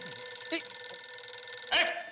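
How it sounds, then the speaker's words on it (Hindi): A phone rings with a soft electronic tone beneath a quiet indoor scene, brief and moderately distant, with faint bursts of other sound. "किसका फोन है? मेरा ही है।"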